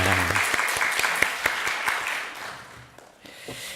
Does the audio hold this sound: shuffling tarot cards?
no